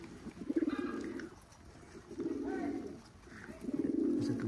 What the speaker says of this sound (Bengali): নাকটানা জেনারেশনের নাকটানা কবুতর